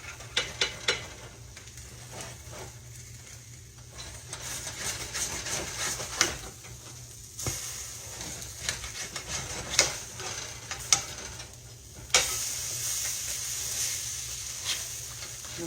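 Sweet potato pieces frying in a pan, a faint, soft sizzle with scattered ticks and light clicks of a utensil, sharper bursts recurring irregularly and the crackle brightening near the end.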